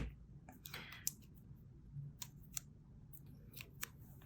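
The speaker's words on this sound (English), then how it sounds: "Let's take my scissors." Scissors cut paper at close range in a quiet room, with a quick series of crisp snips and clicks, some spaced apart and some in short runs.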